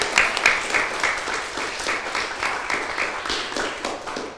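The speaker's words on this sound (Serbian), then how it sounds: "aplauz za vas" An audience at a school quiz final applauds the third-place contestants: a broad burst of many hands clapping, strongest at the start and then holding steady without any talk.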